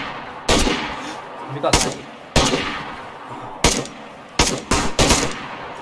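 Gunfire in the survival game DayZ on a winter map: sharp, loud shots in separate bursts, some single and some clustered in quick doubles, with players talking between them.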